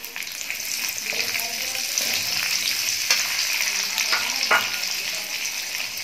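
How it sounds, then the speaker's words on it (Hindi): Chopped onion fries in hot oil with cumin seeds for a paneer angara, sizzling loudly and steadily at close range, with occasional stirring scrapes breaking through. "अब इनको डाल के हम लोग कम से कम 5 मिनट तक इसको थोड़ा हल्का ब्राउन होने तक इसको इस तरह से फ्राई करेंगे।"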